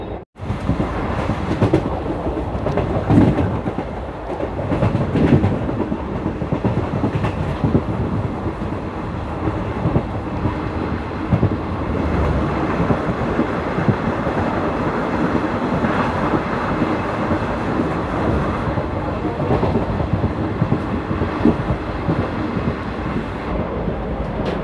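A Jogbani–Kolkata superfast express in motion, heard from inside a sleeper coach, with steady loud rumble and rhythmic clickety-clack of wheels over rail joints throughout, plus some wind buffeting and no talk.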